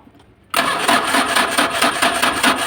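A Mitsubishi L300 with a 4D56 diesel engine turns over on its starter after a short quiet moment, cranking loudly and steadily in a fast pulsing rhythm. The battery is weak, so the cranking sounds slow.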